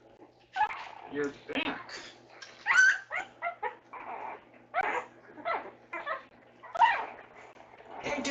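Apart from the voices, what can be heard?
beagle dogs whimpering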